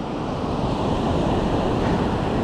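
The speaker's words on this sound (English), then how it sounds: "anytime you see white caps on the waves and foam on the shoreline" Ocean waves wash onto a beach shoreline in a loud, continuous roar of surf mixed with gusting wind buffeting the microphone, no voices present.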